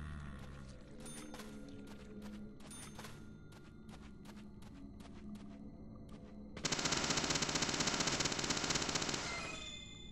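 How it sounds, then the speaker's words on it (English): Video game gunfire in Deadly Premonition: a rapid series of sharp shots for several seconds, then a louder, sustained burst of noisy blasting that fades at the end, with no talking. "Hey, put that shotgun down, man."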